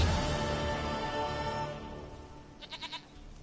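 A goat in The Witcher 3 gives a short, wavering bleat of three quick pulses near the end, following a fading low ambient drone.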